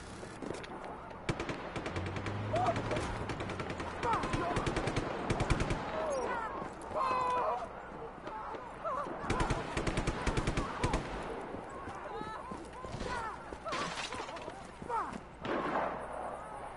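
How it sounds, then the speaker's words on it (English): Machine-gun fire and scattered gunshots in the video game Just Cause 3, coming in repeated bursts over game sounds, with people talking over much of it. "Who's he shooting at?"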